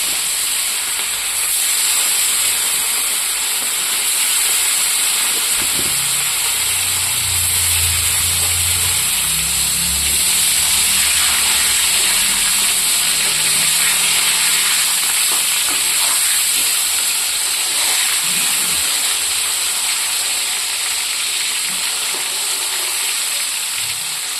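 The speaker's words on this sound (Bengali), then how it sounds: "তাই আমি এখন মাছটা ভেজে নেব" Rohu fish fries in a pan with a steady, close hiss that runs unbroken throughout, a dense bright spray of sizzle with a few low clatters from the pan near the middle.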